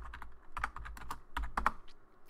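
Close keystrokes on a computer keyboard as a command is typed into a Cisco Catalyst 2960 switch terminal, a quick irregular burst of clicks with brief pauses, no talking.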